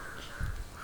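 A single crow caws once, fairly close, over a low background hum with no talking.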